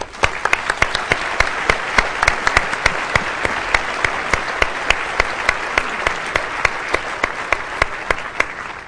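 An audience at a club luncheon applauds steadily, a dense wash of clapping with sharp individual claps standing out throughout, fairly loud and close.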